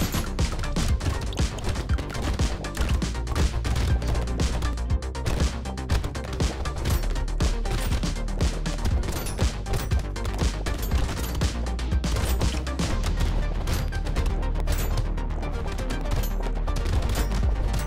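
Dense, continuous rumbling blasts and booms from the video game Brotato, with rapid gunfire-like bursts layered throughout and no break in the noise.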